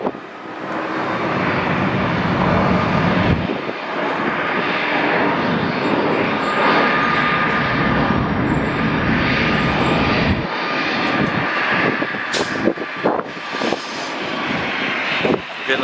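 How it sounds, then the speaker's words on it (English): An eight-year-old Boeing 737-900 jet arriving at Atlanta airport from Nassau, its engines roaring loud and steady throughout, with a broad sustained rumble and no talk. "8-year-old 737-900 coming in from Nassau"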